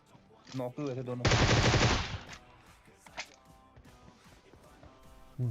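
A rapid burst of automatic gunfire in PUBG Mobile rattles loudly for about a second, surrounded by quieter game sounds and faint clatter.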